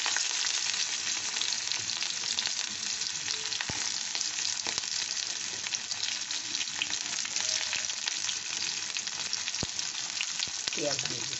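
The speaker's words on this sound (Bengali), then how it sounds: "এরপরে আমি পেঁয়াজ কুচি আর একটা কাঁচা লঙ্কা ফোড়ন দিয়ে দেবো" Chopped onion and a green chili crackle in hot oil with a bay leaf, a dense, steady sizzle that runs throughout, dotted with sharp pops and occasional spoon clicks.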